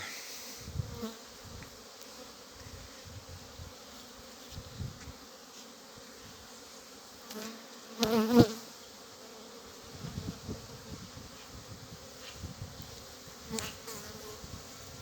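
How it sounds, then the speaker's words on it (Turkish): Bees buzz and drone close by, with a louder pass around the middle as one flies near, then a steady hum continues. "Arılar gözlerine şəstiriblər məni"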